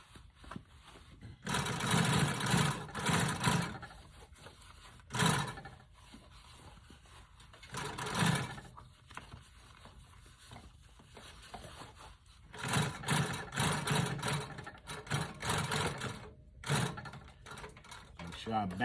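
A sewing machine stitches a seam on a Chevy Brougham top in several bursts of fast mechanical whirring, separated by pauses that bring in handling noises and a voice.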